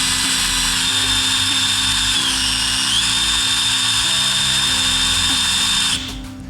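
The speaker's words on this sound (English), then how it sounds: "I'm just using the weight of the drill. I'm not pushing at all." A power drill bores into a copper bar under only its own weight, a loud, steady high-pitched whine that holds for about six seconds and then stops abruptly.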